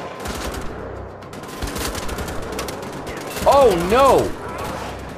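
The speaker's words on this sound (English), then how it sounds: "Who's shooting at me, bro?" Rapid automatic gunfire from the shooter game Wolfenstein: The Old Blood, loud bursts of bullets over a running mechanical background, with a player talking over it.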